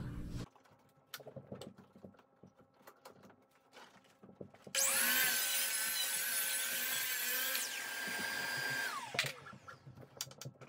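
Power saw, likely a miter saw, making a 90-degree cut through wood trim: a brief spin-up, a loud sustained whining cut of about three seconds, then a winding down, preceded by quiet handling clatter.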